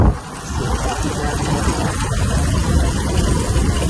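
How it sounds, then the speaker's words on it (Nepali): A Hero Xtreme 125 motorcycle engine runs with a loud, steady drone mixed with rushing wind noise at close range, continuous throughout. "एक्सट्रिम हिरो 125 वाल माइलेज दिन्छ यो बाइकले चाहिँ"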